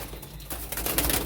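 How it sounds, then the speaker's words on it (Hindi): Pigeons coo softly among the birds on a rooftop loft while a keeper gathers them, with broadband rustling and outdoor noise over a steady low hum. "चलो मैं कबूतरों को इधर कर लेता हूँ ताकि आप सही से देख सकें।"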